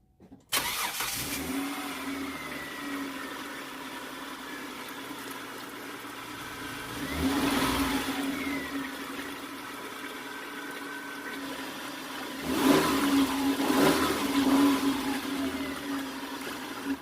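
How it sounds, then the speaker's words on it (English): A Kia Sorento engine cranks and catches, then idles steadily with a mid-pitched hum, rising briefly in a couple of revs later on, heard close with no speech. "We're going to go ahead and turn on the vehicle for about 5 seconds or so, and then we're going to turn it off."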